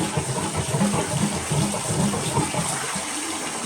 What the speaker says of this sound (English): I have hot water running, and I'm also actually plunging every now and then to give it a try.